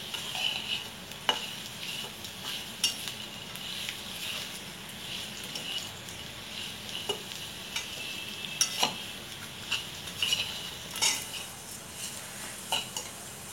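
Garam masala dry-roasts in a pan for a mutton dish, a soft continuous rustle broken by scattered sharp scrapes and taps of a spoon against the metal, heard close with no talking.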